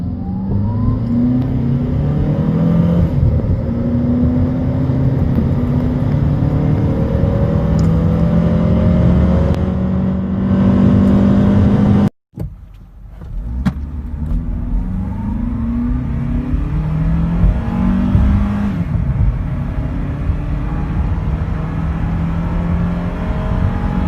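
A Honda CR-V's K24A1 engine, the 156-horsepower North American version from a 2002–2006 model, idles and then revs up repeatedly, its pitch climbing and falling. Near and steady, with a brief cut partway through and no talking.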